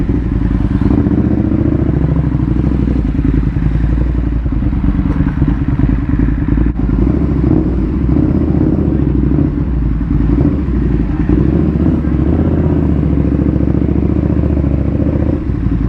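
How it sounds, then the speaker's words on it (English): A KTM Super Duke 1290 R motorcycle engine roars continuously up close, with rumbling exhaust and clattering wind noise as it rides. "You forget how loud this bike is, man."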